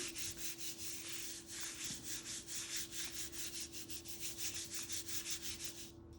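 Paper is rubbed steadily over a painted leaf to pull a print, a soft, even scratchy rubbing in quick repeated strokes, close up and quiet with no talk.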